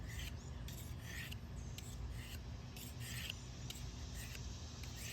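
A knife edge is stroked across a Smith's Diamond Stone with fine and coarse sides, giving a steady run of close, raspy scraping strokes in an even rhythm over a constant background hiss.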